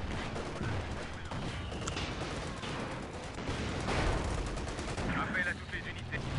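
Rapid bursts of gunfire crackle continuously over a dense background of battle noise in the game Company of Heroes 2, loud and sustained throughout.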